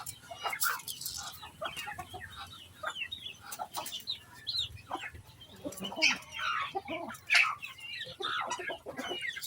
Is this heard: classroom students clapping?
no